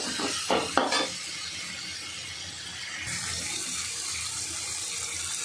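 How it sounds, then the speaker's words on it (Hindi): Tomatoes with cumin, turmeric and red chili powder fry in a pan, a few brief stirring knocks followed by a steady, close hiss and sizzle with no talking. "बस इन्हें फ्राई करके चने को मिक्स कर दूँगी"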